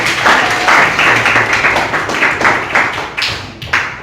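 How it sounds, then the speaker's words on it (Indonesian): Classroom applause for a student, a dense patter of many hands clapping steadily at close range for about four seconds, with no clear talk over it. "Tepuk tangan buat Nadine"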